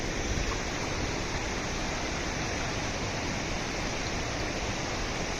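Sajla waterfall pours clean water in a continuous, loud, even roar of falling and rushing water, with no voices or breaks.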